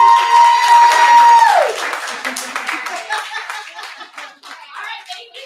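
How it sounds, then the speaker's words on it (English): A dinner-table audience breaks into a big round of clapping that starts over a fading tone, then thins into scattered claps with a few chuckles and murmurs mixed in. "let's just give a big round of applause"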